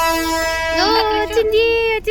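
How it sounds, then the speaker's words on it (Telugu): A passenger train's loud, sustained horn blares with a sliding, wavering pitch at a railway level crossing in Chittoor, sounding close by, with voices mixed in underneath. "ట్రైన్ వస్తుంది."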